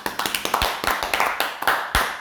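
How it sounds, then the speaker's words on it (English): A small group on a basketball podcast gives a round of applause: a handful of distinct, close claps in a quick, uneven rhythm rather than a dense crowd roar. "can we all give a round of applause for producer Kian?"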